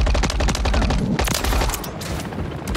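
Hostile remote turret in COD: MW3 rattles off dense, rapid automatic bursts, loud and close, in continuous volleys with a short break midway, no talking over it.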